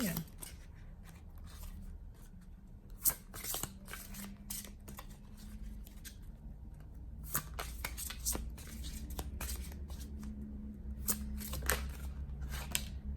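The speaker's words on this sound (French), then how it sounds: "je vais vous tirer une autre carte" Tarot cards are shuffled and drawn, with soft, irregular papery flicks and riffles close by, mixed with quiet handling noise and some background talk.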